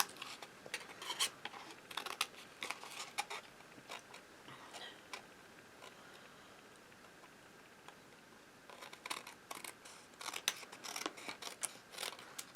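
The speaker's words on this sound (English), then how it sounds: "I'm going to turn it over, and I'm going to cut all these off" Scissors snipping card scraps off along the edge of a card base, quick clusters of small crisp cuts and paper rustles, close and quiet, with a brief lull in the middle.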